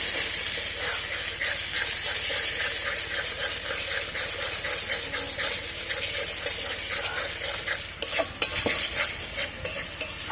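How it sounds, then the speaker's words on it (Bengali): Masala for doi chicken stir-fried in a pan, with a loud continuous sizzle and hiss under rhythmic spatula scraping, close up, and a few louder clanks near the end, with no voices. "ভালো করে মশলাটা কষাবো।"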